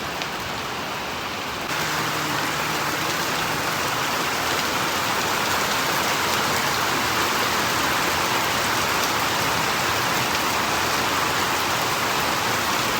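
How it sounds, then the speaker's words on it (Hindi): Heavy monsoon rain pours down in a dense, unbroken hiss, loud and steady throughout with no pauses. "पूरी मूसलाधार बारिश है, पूरी मूसलाधार, जैसे मानसून में होती है।"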